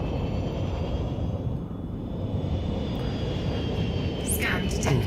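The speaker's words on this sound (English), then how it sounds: "Full power to engines" Spaceship engines throttling up to full power in Elite: Dangerous, a steady loud broadband roar with a faint high whine that holds throughout, swelling slightly near the end.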